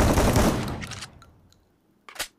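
Gunfire in the Free Fire Max mobile game: a dense opening burst of shots trails off into brief reload clicks and mechanical clatter, then one more sharp report near the end.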